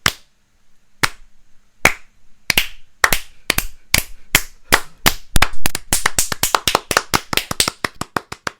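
Two hosts demonstrate the rhythmic crowd claps heard at NXT Takeover wrestling shows, sharp close handclaps that begin slow and sparse and then speed up into a rapid, building run.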